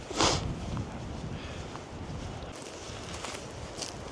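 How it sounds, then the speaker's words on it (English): Wind blows steadily past a tent outdoors on a cold spring day, a constant rushing buffet with a brief louder gust near the start and faint scattered rustles, no voices. "Now I have the wind a little bit from the side"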